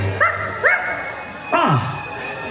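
Zero, the ghost dog character at a Disney Halloween fireworks show, gives a few short, high yips and a falling whimper-like bark, spaced apart and fairly loud over a quiet crowd backdrop.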